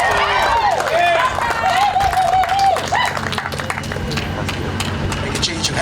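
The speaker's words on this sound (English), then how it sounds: "when they put the new hats on, everybody clapping" Spectators clap at a sports car race victory podium at Road America as drivers get new hats, scattered applause running under an announcer's voice and faint engine noise, with bursts of close claps toward the end.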